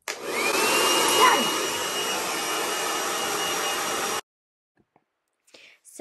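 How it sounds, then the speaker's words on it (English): A hair dryer running at full speed on medium temperature while drying hair makes a steady, loud whooshing hum for about four seconds, then shuts off abruptly into near silence. "it's really difficult to talk and have the hairdryer go"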